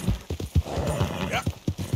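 Horse hooves clip-clopping in a quick uneven rhythm with a neigh partway through, close and fairly loud, from the open-world western game Red Dead Redemption 2.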